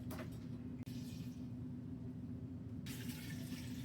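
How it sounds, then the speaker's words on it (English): Tap water pouring steadily into a large saucepan over rinsed dry pinto beans, a continuous rushing stream with a brief break and a brighter splashing surge near the end. "return the beans to the large saucepan, add water to cover by 2 inches"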